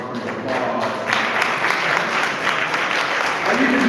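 An audience at a community table talk and candidates' meeting applauds its sponsors, a dense, steady round of clapping sustained from start to finish with some crowd murmur underneath.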